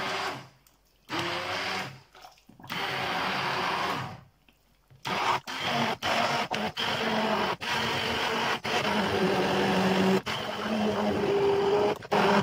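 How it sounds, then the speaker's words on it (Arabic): A blender purées a vegetable soup, its motor roaring in long loud bursts broken by brief pauses and short pulses, close up and with no voices over it. "غادي نطحن بسم الله الشوربه ديالي"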